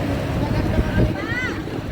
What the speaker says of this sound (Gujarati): જઈ રહ્યા છે આપણે સ્પીડ બોટની મજા માણવા માટે